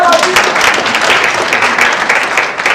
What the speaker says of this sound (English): Can you clap for my employers?